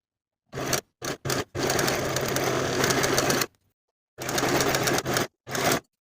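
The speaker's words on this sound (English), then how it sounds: "I'm going to take it to my serger and finish the raw edges" A serger finishing raw fabric edges on a top sewn from scraps runs in loud, close mechanical bursts, first a few short stitching runs, then a long steady run of about two seconds, then more runs after a pause.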